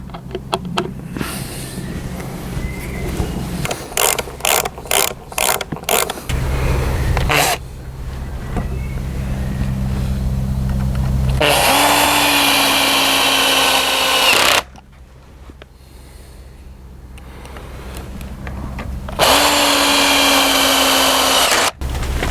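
A power drill drives screws into the wooden frame of a backyard BBQ shed, starting with short rapid bursts and then giving two long, loud, steady whirring runs, close up with no talk.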